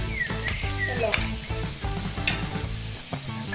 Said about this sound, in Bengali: তারপরে এটাকে ভালোভাবে নেড়ে দিয়ে দিচ্ছি যতক্ষণ পর্যন্ত পেঁয়াজটা ভাজা ভাজা আসছে ততক্ষণ আমরা নেড়ে নেবো